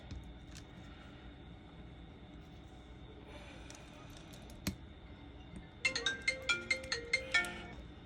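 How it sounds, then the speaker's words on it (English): A phone ringtone plays a quick series of bright chiming bursts near the end, loud against a quiet background of faint room noise in a resin-crafting workspace. "Y'all better stop that phone from ringing."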